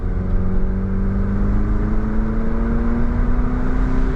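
Late-1990s car accelerating hard in second gear on a residential street, the engine note rising steadily and loud throughout, close up from inside the cabin with no talking.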